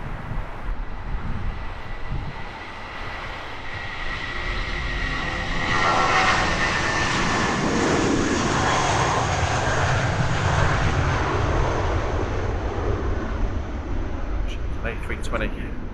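Airbus A320neo jet airliner of Scandinavian Airlines at Heathrow Airport, its engines giving a steady broad roar that swells from about six seconds and holds loud, with a person talking over it.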